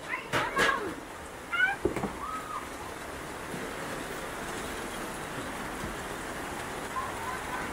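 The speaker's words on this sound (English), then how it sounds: "Well, it has begun to rain." Rain falls outdoors in a steady, even hiss of drops on surfaces, preceded by a few brief voices and clatter before the shower settles in alone.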